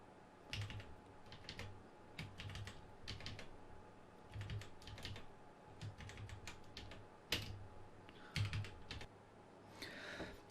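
Quiet typing on a computer keyboard while entering a C++ program, with irregular clusters of key clicks, some quick runs and a few sharper single strokes, over faint room hum and no speech.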